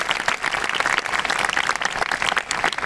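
A crowd at an education talk breaks into brief, lively applause, many hands clapping close together in a dense burst lasting a few seconds.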